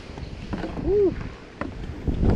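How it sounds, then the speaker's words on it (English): Strong wind gusts buffet the microphone on a lake during a kayak trip, a low rumbling roar that swells and fades, with a short whoop-like voice sliding up and down partway through. "That was some wind."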